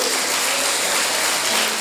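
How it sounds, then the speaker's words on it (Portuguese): Audience applause fills a church after a call during a Portuguese sermon, a steady dense wash of clapping with no break, fairly loud and even throughout. "Você pode aplaudi-lo por isso?"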